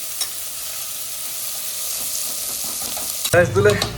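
Prawns for biryani fry in a pan with a steady, close sizzle. A louder voice-like sound briefly cuts in near the end.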